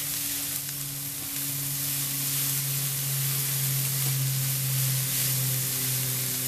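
Chopped kale sautéing in a hot pan and being stirred, a steady close sizzle with soft scraping of the stirring utensil running throughout, no voices.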